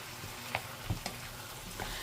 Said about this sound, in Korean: 호박을 익히지 않았기 때문에 이렇게 한번 볶아줍니다